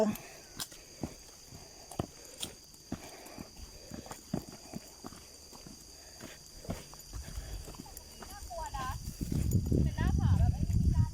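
A horse walks near Wat Phu Tok on a family trip in Thailand, its hooves clip-clopping in a steady series of sharp, fairly close knocks, with people talking and a louder rumbling stretch toward the end.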